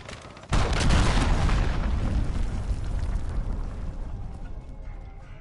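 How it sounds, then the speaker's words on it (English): A missile blast in the Call of Duty Modern Warfare beta hits half a second in as a sudden loud, deep boom, then a long rumbling roar that slowly fades over several seconds. "Missile, take cover."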